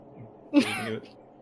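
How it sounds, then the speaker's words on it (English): A single close sneeze bursts out sharply and fades within half a second, standing alone over a faint, quiet background. "I sneezed."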